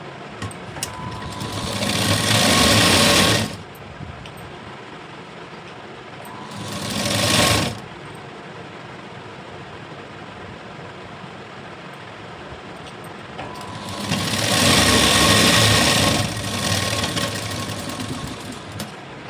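An electric sewing machine runs up a blouse seam in three bursts of whirring stitching, a long run, a short one and another long run, close and loud over a steady room hum.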